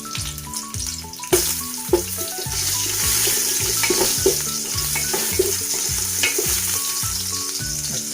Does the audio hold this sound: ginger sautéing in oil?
yes